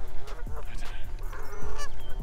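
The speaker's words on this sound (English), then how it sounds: "Oh, geese and that." Geese honking out on a golf course, several loud nearby calls in quick irregular bursts over steady outdoor background noise.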